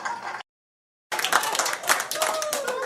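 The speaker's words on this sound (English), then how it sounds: "people are clearly applauding" Audience at a stand-up comedy show bursts into dense, sustained applause and clapping after a brief cut of silence, with some crowd voices mixed in.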